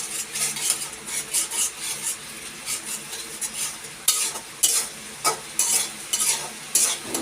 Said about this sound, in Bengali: তেলের কড়াইতে একে একে সবগুলো উপকরণ দিয়ে তারপর ভালো করে একটু কষিয়ে নেব